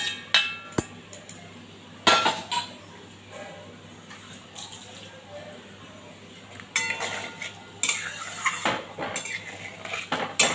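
Fried prawns tipped into a pan of prawn malai curry: scattered metallic clinks of a utensil against the pan over a low steady hum, then denser rustling bursts of sizzle and clatter toward the end.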